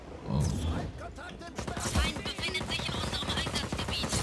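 Rapid gunfire from a weapon in the open-world action game Just Cause 4, a dense, continuous stream of shots mixed with explosive rumbles and game effects, moderately loud throughout.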